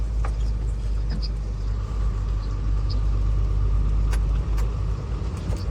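Inside a vehicle driving an old, badly damaged road in Maharashtra, a steady loud low rumble with scattered rattles and knocks from the rough surface, continuous throughout, with no talk.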